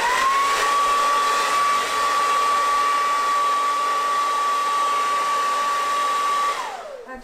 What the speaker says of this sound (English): I'm going to blow dry it for a second.